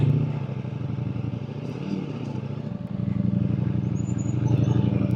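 A Ducati V4 Pikes Peak motorcycle rides off-road with its rear wheel spinning, a loud steady engine drone with gravelly clatter under it that swells slightly toward the end.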